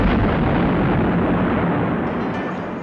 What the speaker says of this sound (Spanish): ¿por qué le disparan un cañonazo al frontis del palacio?